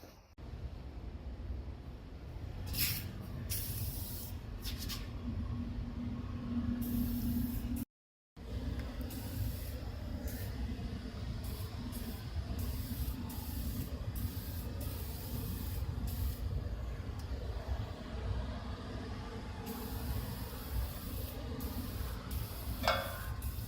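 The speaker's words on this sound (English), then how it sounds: "I just got done spraying and wiping down all the stands" Continuous hissing spray of an aerosol can, WD-40 by the stated facts, over metal tool stands, in long steady bursts with a brief gap partway through and faint shop background.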